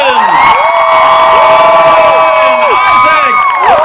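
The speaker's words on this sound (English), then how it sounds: "One more big round of applause for Mr." Audience at a Harry Potter fan celebration Q&A cheering and applauding for Tom Felton, loud sustained shrieks and whoops from a large crowd with clapping underneath.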